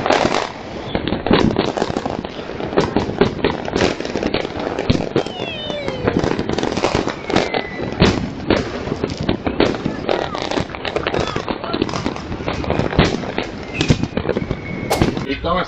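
Fireworks burst at night, picked up by an outdoor security camera: dense rapid crackling and popping bangs go on continuously, with distant voices mixed in.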